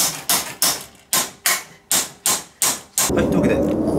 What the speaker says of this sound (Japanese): 四方八方からハンマーの音がする。